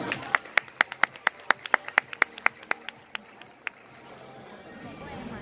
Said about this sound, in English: please once again, a big warm round of applause